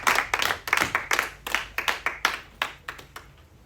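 A church congregation claps together to acclaim the Lord, a steady rhythmic beat of about a dozen sharp, fairly loud claps at an even pace.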